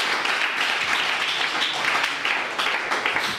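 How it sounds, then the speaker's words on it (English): Church congregation clapping hands together, a dense, steady wash of many hands applauding continuously at close range, with no voices standing out. "Give him a good clap of your hands."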